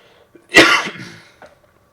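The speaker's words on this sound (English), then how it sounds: "Don't know why I started coughing all of a sudden." One sharp, explosive cough bursts out close by, followed a moment later by a small, faint catch of breath.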